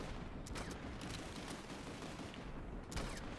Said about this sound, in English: you can literally just shoot rounds into the blob of people and get kills.